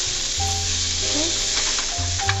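Onions sizzle steadily while frying in a pan for okra masala curry, a close, continuous crackle with low steady hum and a few faint clinks near the end.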